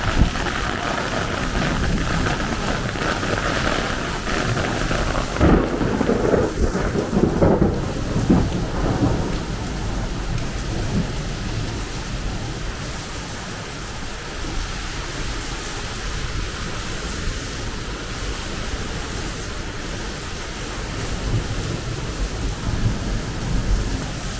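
A violent downpour roars without pause, heavy rain hammering surfaces as thunder rumbles through the storm; loud and enveloping, with no voices.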